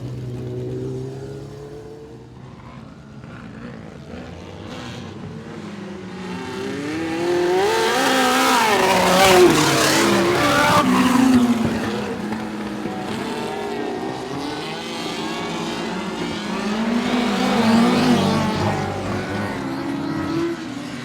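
Several sprint cars roar around a dirt oval on a race restart, engines swelling and fading in a continuous, loud drone as the pack accelerates past.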